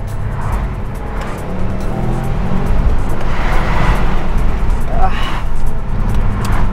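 A Subaru WRX STi drives through a tunnel, its engine and road noise a loud, continuous roar that swells slightly as it echoes off the walls.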